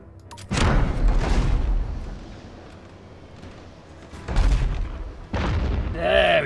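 Ship cannons firing in the naval video game Abandon Ship, heavy booming blasts in a few separated bursts with rumbling decay and quieter stretches between.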